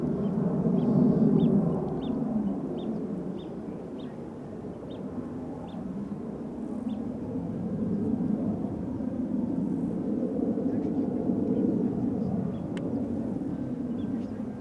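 A TAP Air Portugal jet, flight 668 from Lisbon, arrives at Amsterdam Schiphol with a steady broad engine rumble and roar that swells and holds across the span, heard at a distance with no talk.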